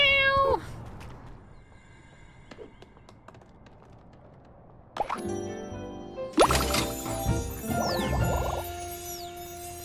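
A cat meows in the video game Little Kitty, Big City, with a sharp meow at the start, a quiet stretch, then a busy burst of game sound effects, chimes and plops.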